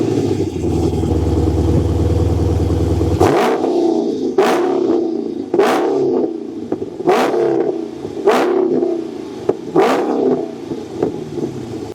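A Dodge Challenger with a 6.4-litre V8 and stock exhaust idles with a deep rumble, then is blipped through six sharp, evenly spaced revs that each rise and fall quickly, loud and close.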